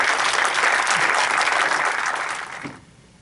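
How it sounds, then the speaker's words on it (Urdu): Loud applause from an audience at an Urdu Academy literary evening, a dense sustained clapping that holds strong for nearly three seconds, then fades out abruptly. "آپ کی زوردار تالیوں کے ساتھ میں نے دعوت۔"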